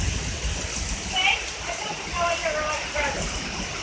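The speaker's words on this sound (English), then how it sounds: "Nothing but rain, water, Thunder, lightning." Heavy rain pours steadily during a thunderstorm in tornado alley, a dense continuous hiss close by, with faint voices briefly audible under it.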